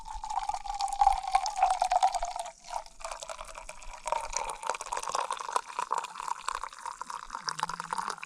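Hot water pours and splashes into an ice fishing hole on a small mountain lake, a close, steady bubbling stream that pauses briefly and then runs on in a softer, broken trickle.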